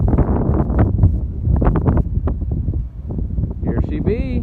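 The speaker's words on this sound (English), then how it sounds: "It's a bit windy out" Wind blows outdoors at a tractor reveal of a 1938 Farmall F20, a steady loud rumble buffeting the microphone under continuous talking, with a brief tonal whine near the end.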